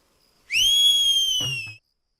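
A single loud, shrill whistle sounds for over a second, bright and steady, blown to call someone over, followed by a brief soft thump as it ends.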